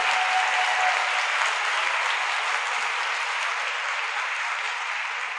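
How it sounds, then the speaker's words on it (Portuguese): An audience at a university's inaugural pedagogy class bursts into sustained applause, a dense, loud wash of clapping that holds steady for several seconds and tapers only slightly. "podem aplaudir vocês mesmo pelo esforço."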